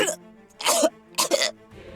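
A woman coughs twice in sharp, harsh bursts with a throaty gagging edge, separated by short pauses, close and loud in a dramatized scene.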